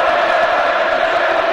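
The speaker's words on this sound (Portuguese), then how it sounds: "A torcida do São Paulo volta agora a cantar aqui no Morumbi." São Paulo supporters singing together at Morumbi stadium during a 1999 Campeonato Paulista match against Palmeiras, a loud, dense, continuous crowd chant filling the whole stretch.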